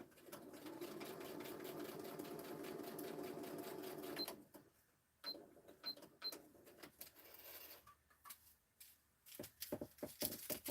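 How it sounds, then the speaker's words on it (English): A sewing machine stitches fabric closed in a craft studio, a rapid mechanical whirr for about four seconds, then scattered quieter clicks and handling sounds. "I'm going to stitch that one closed."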